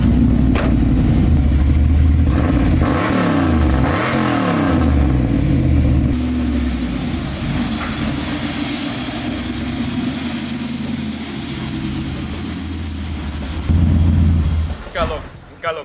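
A 1995 Chevrolet Camaro with an LT1 V8 revs and settles into a lumpy idle with a choppy cam, loud and close, with rising and falling blips before a final burst and cutoff.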